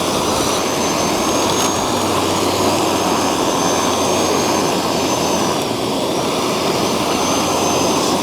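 A loud, steady mechanical roar of a lawn dethatcher running continuously, with a constant engine drone and dense broadband rasping throughout.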